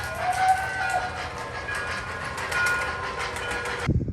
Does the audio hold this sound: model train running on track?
yes